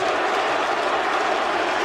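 A large arena crowd in Poland roars and cheers on their feet during a Cro Cop versus Gabriel Gonzaga MMA fight, a dense steady wash of noise from start to finish.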